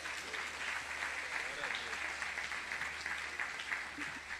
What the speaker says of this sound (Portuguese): Você não vai aplaudir a Deus por isso, não?